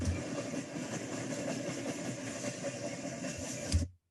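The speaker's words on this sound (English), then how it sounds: "So it looks like it must be a train approaching." Train approaching, played as a sound effect in an editor: a steady low rumble and mechanical rattle holds for about four seconds, swells briefly near the end, then cuts off abruptly.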